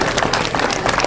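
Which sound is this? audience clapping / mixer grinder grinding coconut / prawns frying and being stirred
audience clapping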